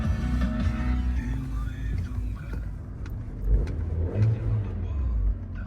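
Volkswagen Golf Plus with automatic gearbox running with its engine rising and falling in steady revs, a fairly loud, continuous mid-pitched rumble with light background noise throughout.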